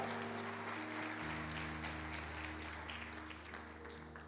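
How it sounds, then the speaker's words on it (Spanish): Church congregation applauding during a Spanish-language worship service, a steady wash of clapping over a sustained low musical drone, fading slightly toward the end. "Dale un aplauso a Jesús."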